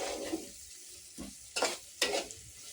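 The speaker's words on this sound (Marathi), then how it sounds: "पावभाजी मसाला टाकू 2 चमचे. छान असं परतून घेऊ आपण." Pav bhaji masala being stirred and fried in a pan at home, with a soft continuous sizzle broken by several sharper scraping stirs, close and fairly quiet, no talking.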